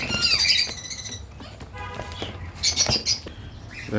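Shrill, harsh yellow ringneck parakeet squawks burst out in several quick calls, close by, with scratchy rustling and chatter between them.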